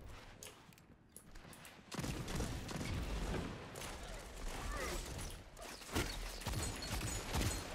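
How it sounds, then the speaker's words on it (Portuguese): Machine gun fire in the video game Destiny 2, with dense bursts of rapid gunshots that start suddenly after a quieter opening and keep going loudly, mixed with game effects. "Olha essa metralhadora."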